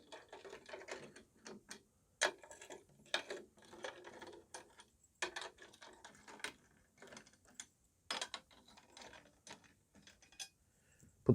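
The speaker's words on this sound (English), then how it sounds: "loosen off all the tuning rods" A drum key loosens the tuning rods on a drum: quiet, scattered metallic ticks and ratcheting clicks come in short bursts separated by pauses, close up in a still room.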